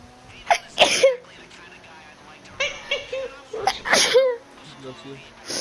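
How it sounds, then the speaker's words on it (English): A person sneezes twice in quick succession, loud and close, and after a pause sneezes again with a sharp burst, with soft breathy sounds and brief vocal noises in between. "I'm gonna sneeze."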